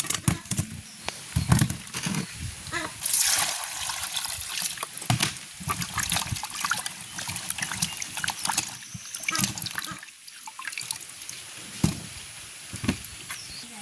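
Peeled green pineapple is washed by hand in water in a village setting, with soft trickling, splashing and dripping sounds coming in irregular bursts close by.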